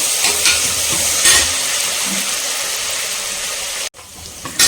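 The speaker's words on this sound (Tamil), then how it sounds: "வெங்காயம் வதங்கிட்டு இருக்குது." Onions sautéing in a pan for a green peas and potato gravy, a loud steady hiss with a few stirring scrapes and a brief break in the sizzle near the end.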